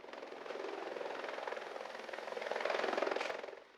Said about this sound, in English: the helicopter rises 200 feet into the air